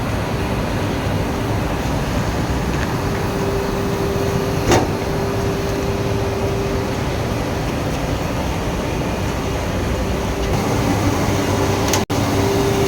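A 6 KLD pilot demo effluent treatment plant machine runs with a steady, even mechanical hum and a faint constant tone, heard alone and close, with a brief click near the end.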